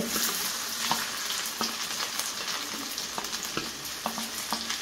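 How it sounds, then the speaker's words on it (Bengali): Chopped ginger and garlic fry in hot oil over a lowered gas flame for a dhaba-style egg tadka, giving a steady, close sizzle with occasional soft stirring clicks throughout. "এখন এর মধ্যে দেব হচ্ছে আমি আদা রসুনের কুচিটা।"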